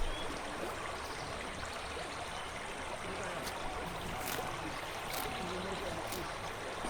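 A river flowing beside a grassy field in Laois, Labrador, Pangasinan, giving a constant rushing, trickling wash of water that stays even throughout, heard close and alone.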